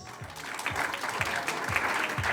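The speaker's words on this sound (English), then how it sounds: "I need you to give your warmest applause to all your" Warm applause from an audience at a school junior-senior promenade, honoring the students' parents; steady, dense clapping fills the room throughout, moderately loud with no voices over it.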